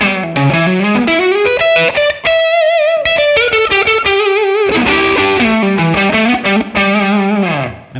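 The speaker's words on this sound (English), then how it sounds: "I also have a room reverb, which you can hear right now." Electric guitar through a Tonex pedal with a subtle room reverb plays loud sustained chords and bending lead notes, the tone lightly driven and the notes ringing into a short ambient tail.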